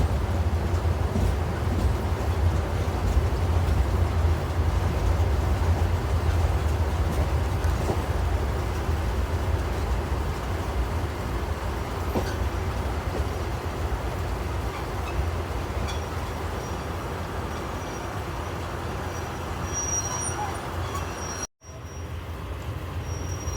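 Chattogram Mail passenger train on the Dhaka–Chattogram line pulling out of Hasanpur railway station: a steady, loud rumble of wheels and carriage noise holds throughout, with a brief dropout near the end.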